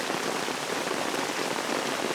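Heavy rain pours steadily and densely, a constant loud hiss of drops drumming on a surface, close by, with no voices.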